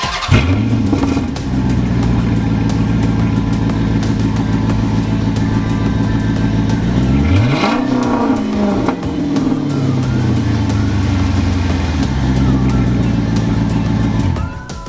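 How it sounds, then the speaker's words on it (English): A car engine with its exhaust resonators still fitted starts up and idles with a deep, steady drone, then revs up sharply once and falls back to a loud, close idle, with no talking. "startup and maybe a little rev of what it's going to sound like now with the resonators on"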